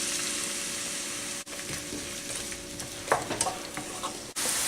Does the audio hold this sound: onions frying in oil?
yes